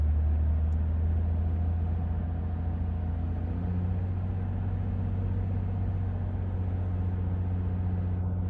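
A car engine held steady at 2000 RPM, giving a constant low droning hum with a faint rumble that stays even throughout, with no talk.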